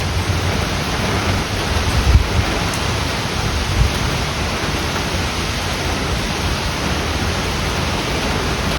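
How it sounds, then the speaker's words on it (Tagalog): Heavy rain and suddenly strengthening wind in Japan roar together as a dense, constant wash of noise, with a couple of brief low thumps. "lumakas bigla yung hangin na naman at saka ulan"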